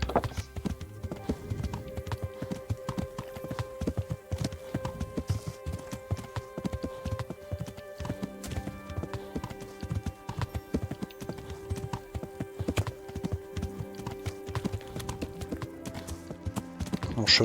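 A horse gallops in the video game Kingdom Come, its hooves beating in a fast, steady clip-clop rhythm throughout, with game music playing softly underneath.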